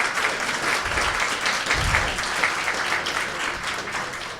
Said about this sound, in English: I would like to ask for a big round of applause for Kimberly and for Megan